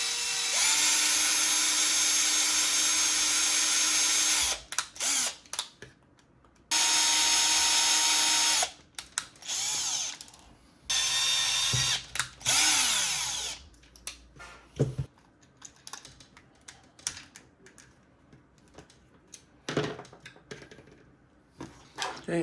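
Power driver unscrewing screws from a Hasbro wand: repeated short bursts of high whirring, several in quick succession at first, then briefer intermittent spurts and small handling clicks, close and fairly loud with no talk.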